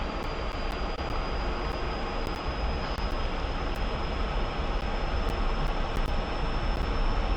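A MiG-15 jet taxiing in the DCS flight simulator, a steady broadband engine roar with a thin high whine held throughout, loud and continuous with no talk.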